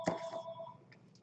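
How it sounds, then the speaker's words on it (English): A mobile phone rings briefly in a room during a live craft session, a short tonal chirp with a steady ringing line that fades within about a second, faint and in the background. "so sorry about my phone ringing"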